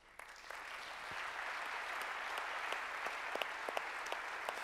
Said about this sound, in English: That's the part where, if you like, you applaud.